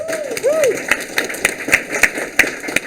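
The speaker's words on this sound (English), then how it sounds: "Round of applause for that." Scattered, fairly sparse clapping from an audience at a game jam showcase, with sharp claps landing in a loose rhythm after a brief whistly tone at the start.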